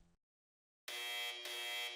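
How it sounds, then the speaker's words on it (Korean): Alarm buzzer in a military operations room blares on abruptly after a short silence, a loud, steady electronic tone holding with a brief dip before continuing. "경보음이 작전실을 깨웠습니다."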